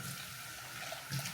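Water running from a kitchen tap while cooking rice, a short steady rushing stream close by.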